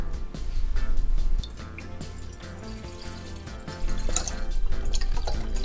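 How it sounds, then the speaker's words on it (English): Chicken stock, about 500 ml, poured into a cooking pot at home, a close splashing, trickling stream that eases in the middle before pouring strongly again. "We have 500 ml of chicken stock."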